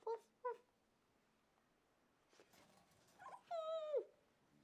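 A child imitates a dog's woof with two short, quick yips, then a longer, drawn-out bark-like cry after a pause, all up close.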